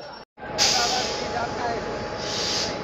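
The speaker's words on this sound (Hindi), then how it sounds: "लोकोमोटिव आ गई कपलिंग के लिए।" Railway locomotive rolling in to couple onto a waiting Shaheed Express train, a steady rumbling approach with an air-brake hiss near the start, close and fairly loud throughout.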